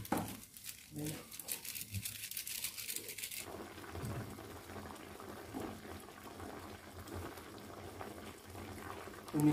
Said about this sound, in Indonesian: Tumis ikan.